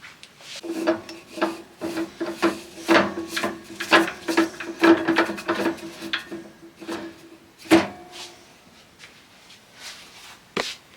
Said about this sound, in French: Donc en donnant un coup de scie, ça va tout seul